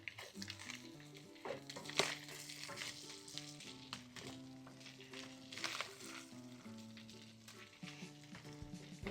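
Chopped onion frying in a pot for frijoles charros, with a steady sizzle and scraping stirring strokes throughout, close and moderately quiet.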